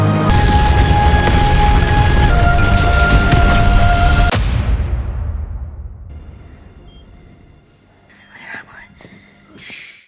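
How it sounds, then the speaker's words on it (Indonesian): Explosion blowing up a cave, a loud sustained rumbling blast with a sharp crack that then decays into a long fading tail, followed by faint scattered noises. "tibalah waktunya untuk meledakkan goa"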